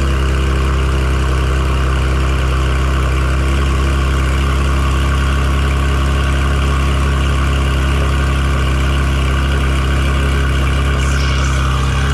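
A loud 2019 Porsche 911 GT3 RS (991.2) engine rumbles steadily right beside the exhaust after a cold start, a deep, continuous drone holding an even idle throughout with no talking.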